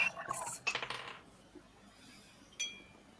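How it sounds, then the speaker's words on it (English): Dice clatter and skitter across a table during a tabletop Dungeons & Dragons game, a quick cluster of light clicks followed by a single later clink, heard fairly faintly in a quiet room. "I just hear dice clattering."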